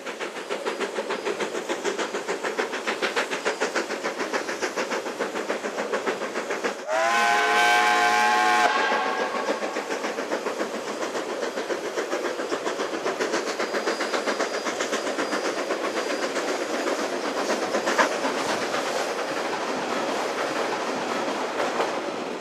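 Steam locomotives attack the grade up to the Frankton saddle on a West Coast line toward Westport, their exhaust beating steadily and close. A loud, sustained steam whistle blares through the middle, then the laboring engines and rolling train carry on.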